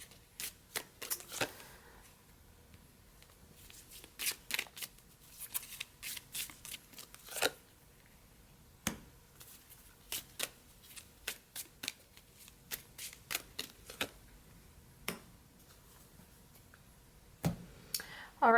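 Botanical oracle cards being shuffled, crisp rapid riffling flutters in repeated short bursts with quiet gaps between, close and clear.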